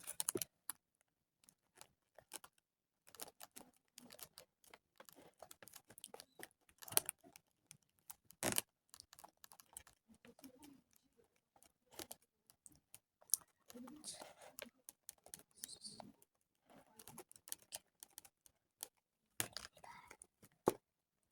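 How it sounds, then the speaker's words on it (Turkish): A pen writes on paper while a gift is being prepared, giving sparse, close scratching and tapping strokes in irregular bursts between quiet pauses, with soft rustling. "Kalemimle yazacağım"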